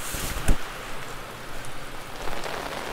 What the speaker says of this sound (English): as you can see, there has not been a break in the rain